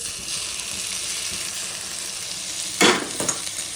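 Muthiya, Gujarati dumplings, being stirred and mixed in a hot pan, with a steady close sizzle running throughout and a louder scraping stir near the end.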